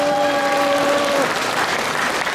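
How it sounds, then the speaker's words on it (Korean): Loud, dense applause from a crowd at a politician's constituency report meeting in Songpa, Seoul, continuous for a couple of seconds, with a brief tone fading out early on. "다시 큰 박수 부탁드리겠습니다."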